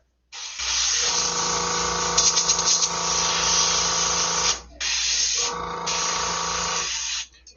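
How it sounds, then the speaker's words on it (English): A loud, continuous hiss of compressed air spraying, with one brief cutoff before the blast resumes. "I'm just spraying air right now."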